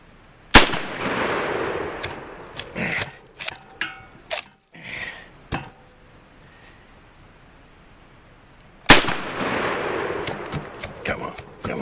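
British Lee-Enfield bolt-action rifle in a WWI-style mud test, two sharp loud reports several seconds apart with metallic bolt clacks and handling noises between them.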